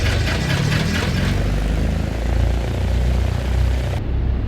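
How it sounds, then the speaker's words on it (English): A simulated Cessna 172 piston engine in X-Plane 12 starting and settling into a loud, steady, throbbing idle with a low propeller drone, heard alone. "and starting the engine."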